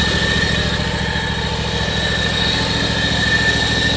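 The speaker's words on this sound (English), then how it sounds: "It's got a 26 horsepower liquid-cooled Kawasaki engine. Starts right up and runs as it should." A John Deere X540 garden tractor with a 26 horsepower liquid-cooled Kawasaki engine runs steadily at idle, a constant loud even drone with a vibrating low throb, close by and alone without talk.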